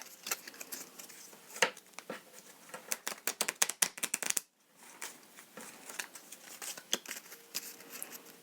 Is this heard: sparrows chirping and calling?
no